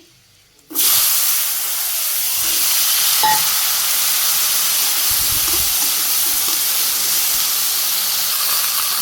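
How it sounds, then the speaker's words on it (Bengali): Cumin seeds hit hot oil in a pan for a fish curry with potatoes and beans, setting off a sudden, loud, sustained hiss of frying that stays steady and close. "মাছের ঝুলের জন্য আমি জিরে দিয়ে দিলাম তেলের মধ্যেই"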